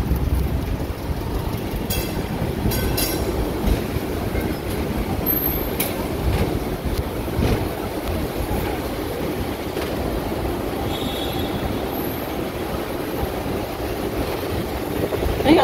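A Hong Kong tram rolls along its street tracks toward the Whitty Street depot, a steady rumbling clatter with faint wheel squeals and city traffic noise throughout.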